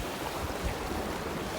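Wind-driven sea washes steadily around a sailing boat in winds up to 22 knots, a continuous broadband rush of waves and wind with no voices.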